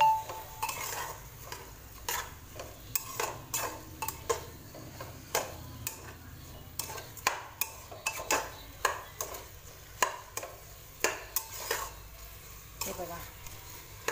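Rice for masale bhat is stirred and sautéed in a pan, a spatula scraping in a steady run of sharp clicks and scrapes over a soft sizzle, close and moderately loud with no talking.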